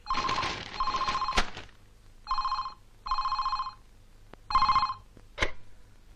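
A telephone bell rings in repeated bursts, about four bright electronic rings separated by short gaps, with a couple of sharp knocks in between, loud and close with no talking.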